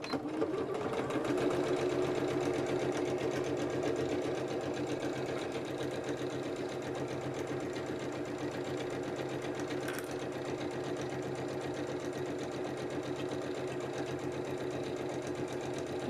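A sewing machine fitted with a zipper foot stitches a quilted bag in one steady, continuous whirring run, close and unbroken.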